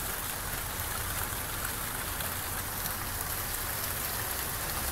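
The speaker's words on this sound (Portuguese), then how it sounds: "começou de novo a chuvarada" Heavy rain pours down at night in São Vicente, a dense, unbroken hiss of drops striking surfaces that stays loud and even from start to end, with no voices.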